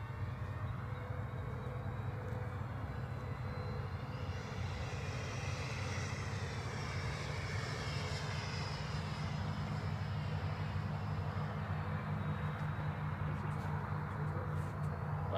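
Freewing 90mm F-16 RC jet flying past: a steady, faint whooshing drone that swells slightly and holds for about fifteen seconds over a flat outdoor background.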